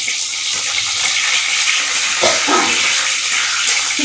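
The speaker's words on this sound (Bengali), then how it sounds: "তেলে 3টে শুকনো লঙ্কা দেওয়া হলো। লঙ্কাটাকে একটু ভেজে নেওয়া হচ্ছে।" Dry red chillies frying in hot oil in a home kitchen pan, giving a steady, loud hiss with scattered spattering pops throughout, close and continuous.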